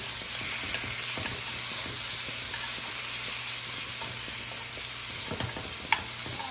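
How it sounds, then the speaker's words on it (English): Meat for chow mein frying in a hot pan, a steady loud sizzle and hiss throughout, broken by occasional scraping taps of chopsticks separating the pieces, with no voices. "Use chopsticks to separate the meat and cook slowly."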